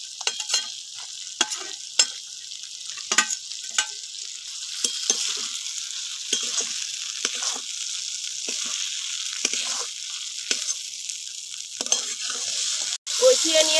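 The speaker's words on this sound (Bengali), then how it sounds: "এবার ভেজে রাখা ঢ্যাঁড়সগুলো দিয়ে দেবো ওর মধ্যে" Fried okra gets stirred into a frying masala, bright sizzling with repeated spatula scrapes and knocks against the pan at irregular intervals, close and alone, ending with a sharper clatter.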